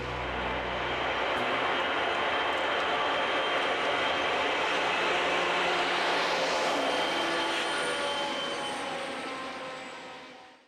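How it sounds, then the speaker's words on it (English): Conrail manifest freight or intermodal train passing, a broad rumbling roar that swells and holds for several seconds before fading away at the end, heard alone. "See a great mix of manifest freight and intermodal trains in many scenic locations"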